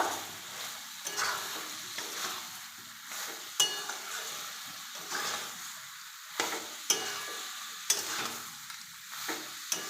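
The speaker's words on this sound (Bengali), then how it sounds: "এবার আমি সয়াবিনগুলো দিয়ে দেব। ভালো করে নেড়ে নেব।" Soybean chunks fry in a pan with a steady sizzle, while a spatula scrapes and stirs them in repeated strokes with a few sharper clacks against the pan. The sound is close, with no talking.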